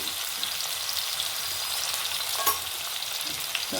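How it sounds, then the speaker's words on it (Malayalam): Chopped onions frying in a pan for beef biryani give a close, steady sizzling hiss with light stirring scrapes and one small clatter, no talk. "നമ്മൾ നേരത്തെ കട്ട് ചെയ്ത് വെച്ച് സവാള ഇട്ട് കൊടുത്ത്"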